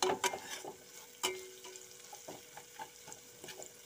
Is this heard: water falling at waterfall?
no